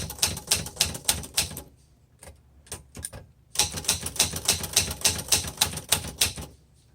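A 1966 Olivetti Underwood 21 manual typewriter being typed on close up, sharp rapid keystrikes in bursts with a short pause of a few scattered strikes midway, then a dense run of clacking to the end.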